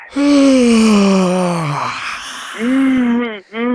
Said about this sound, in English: please yawn in the midst of this